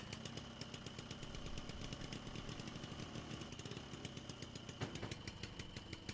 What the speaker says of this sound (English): Listen to the engine, holy fuck.